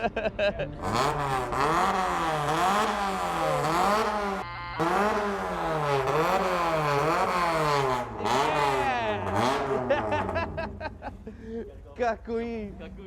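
A Honda Civic exhaust barks as the engine is revved up and down again and again, loud and close, ending in choppy blips.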